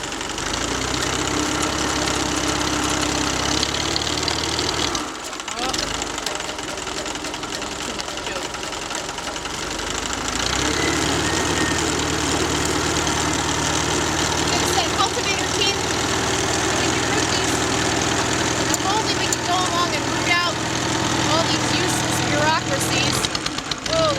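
A small engine on a spreader runs with the choke partly on, a steady buzzing drone with a brief dip near five seconds, heard close and loud under scattered talk.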